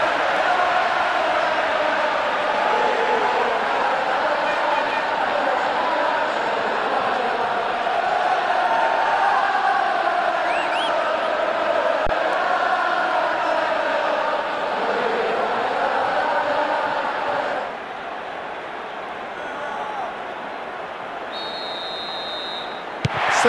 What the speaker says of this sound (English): The crowd wait to offer them a red-hot welcome.